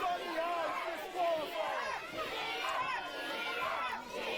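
Wrestling arena crowd chanting and jeering at a cheating wrestler, a steady mass of voices filling the hall at moderate distance without a clear break.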